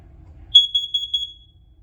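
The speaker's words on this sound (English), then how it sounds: "The 3 beeps indicate fire, and the 4 short beeps indicate carbon monoxide." A smoke alarm in a test sounds four short, high-pitched beeps in an even, rapid sequence, clear and close against near silence.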